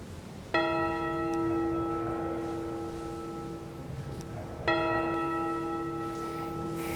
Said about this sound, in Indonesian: Panggilan lonceng.